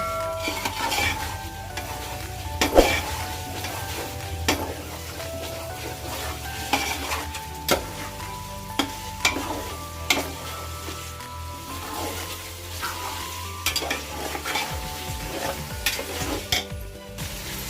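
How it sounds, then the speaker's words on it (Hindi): Chicken for South Indian dum biryani fries in a pan, its steady sizzle broken by frequent clinks and scrapes as a utensil stirs it, close and continuous with no talking. "थोड़ा चलाने से चिकन हमें खाने में अच्छा लगेगा।"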